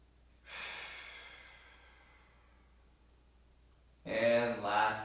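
A deep yoga breath drawn in and let out slowly, a long airy hiss fading over a few seconds, followed by a louder, fuller breath, close and clear with no talking.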